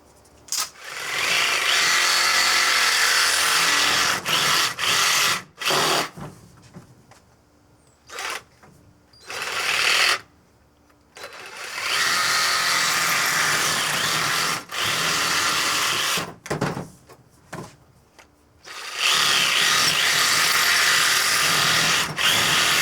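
A power tool cuts 8-inch pieces of pond pipe for a patio pond build, running in several loud, sustained whining bursts separated by short pauses and brief quiet gaps.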